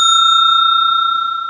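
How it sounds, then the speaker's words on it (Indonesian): A single bright notification bell rings out clean and sustained, a clear metallic ding that slowly fades, heard alone with no talk. "aktifkan lonceng notifikasi"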